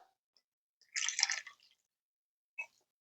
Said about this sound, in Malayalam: ഈ ഒരു പാകത്തിലാവുന്ന സമയത്ത് നമുക്ക് രണ്ടാം പാല് ചേർത്ത് കൊടുക്കാം